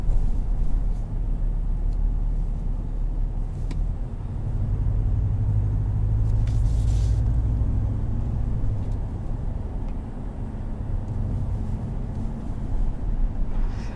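Steady low road rumble fills the cabin of a 2020 Ram 1500 Rebel pickup truck driving over bumps, with faint thumps and rattles under the continuous drone.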